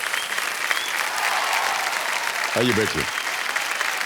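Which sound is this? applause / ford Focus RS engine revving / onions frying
applause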